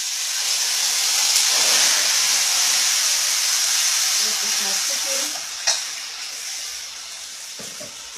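Chicken steaming in a pot for chow mein gives off a steady, moderately loud hiss with a faint sizzle, while someone speaks briefly near the end over a small clatter.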